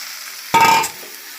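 A short, close scrape and sizzle as a mashed banana-stem thor ghonto mixture is stirred in a hot pan. One brief burst rises from a quiet background, with no talking.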